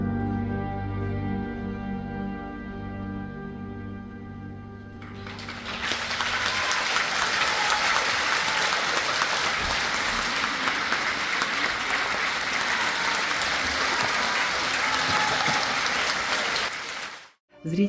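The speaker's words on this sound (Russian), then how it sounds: "самарские зрители приняли овациями" An audience at a piano duo concert in Samara bursts into sustained, dense applause that swells after the final notes and holds steady and loud for over ten seconds before cutting off abruptly.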